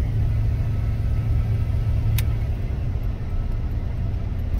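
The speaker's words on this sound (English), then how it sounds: "Motor sounds good and smooth." A 1987 Chevrolet C10 pickup truck's engine runs smoothly on a test drive, a steady low rumble with road noise heard from inside the cab, and one brief click partway through.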